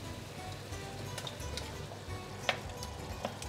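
Plum tomatoes sizzling in a pan on medium heat for pasta alla zozzona, a Roman dish: a steady, soft frying hiss with a few faint pops and a light clink, heard alone at low level.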